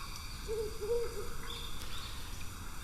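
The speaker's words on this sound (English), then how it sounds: "I think they're owls. They sound like owls." Two low owl hoots come in quick succession against a constant background drone of insects, fairly faint and somewhat distant.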